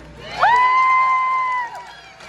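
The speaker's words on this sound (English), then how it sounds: "this young lady deserves another round of applause" A crowd at a political rally in Enumclaw, Washington, cheers for a young woman named Riley, with one prominent sustained whoop standing out over a quieter background before it trails off.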